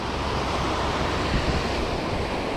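Ocean surf rolling onto Galveston beach in winter, a loud continuous wash of breaking waves with wind rumble and no voices.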